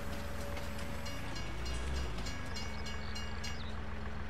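A train in the Farming Simulator 19 video game rumbles steadily and loud, its heavy low drone swelling briefly midway, with faint high metallic tones on top and no voices.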